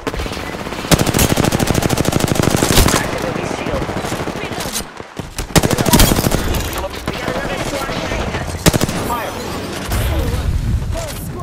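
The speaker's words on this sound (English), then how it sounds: "I am taking fire, friends." Sustained automatic gunfire in a shooter game, rapid rattling bursts that run almost continuously, loud and close, with heavier blasts mixed in and a voice talking over the shooting.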